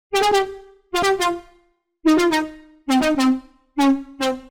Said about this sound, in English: Lead inter is another big brass lead,